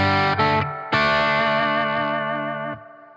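Electric guitar through a Fat Jimmy Custom 20 amp on its Tweed channel, a short chord stab then a strummed chord ringing out with warm overdriven sustain for about two seconds before being muted.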